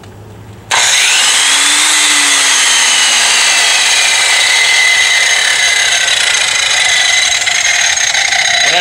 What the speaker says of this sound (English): this is the tool that's going to make it happen today. Big ass grinder, okay?